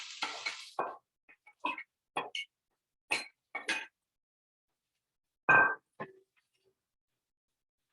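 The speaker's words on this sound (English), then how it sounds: "Can you hear it? Starting to sizzle." Onions fry in hot coconut oil, crackling in short, separate bursts of sizzle with quiet gaps between, near and fairly loud with no talking.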